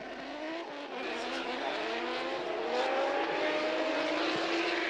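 Formula Drift car at Fuji Speedway heard from a distance, its engine note climbing steadily in pitch as it accelerates into a drift, a thin sustained whine with no voices.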